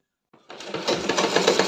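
A sewing machine runs steadily, double-stitching a seam on patiala pants, its rapid mechanical whir close and continuous after a brief start.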